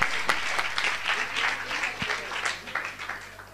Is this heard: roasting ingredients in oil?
no